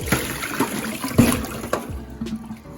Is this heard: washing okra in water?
yes